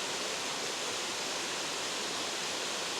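Kondilla Falls roars as a dense, loud, unbroken wash of falling water, close and steady with no voices.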